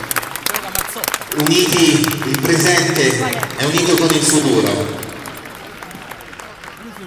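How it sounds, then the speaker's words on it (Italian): Audience applause swells and fades over about five seconds at an Italian gathering, with someone speaking loudly over it into a microphone throughout. "che noi coroniamo con un grandissimo applauso"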